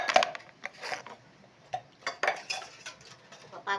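Plates and cutlery clatter and clink while a pile of dishes is washed by hand, with irregular close knocks and scrapes separated by short pauses.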